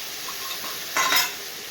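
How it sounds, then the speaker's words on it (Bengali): Brinjal and broad beans stir-frying with spices in a pan with little oil, a steady close sizzle with one louder burst of scraping and frying near the middle. "দিয়ে এবার ভালো করে নেড়ে নেবো নেড়ে কষিয়ে নেবো"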